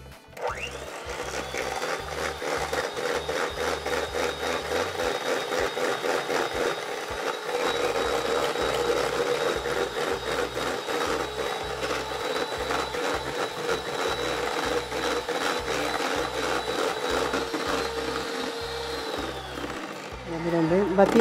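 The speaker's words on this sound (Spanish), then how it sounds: "voy a batir con el otro poco de azúcar que reservé. Ya, en este caso voy a utilizar las mismas varillas que he batido las claras." Electric whisk beaters whir steadily as egg yolks are beaten with sugar for individual tres leches cakes, a continuous buzzing motor drone with rhythmic rattling that runs loud and unbroken for about twenty seconds.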